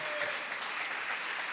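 A church congregation claps in a steady, dense wash of applause, moderately distant and continuous for the short moment, with no clear voices over it.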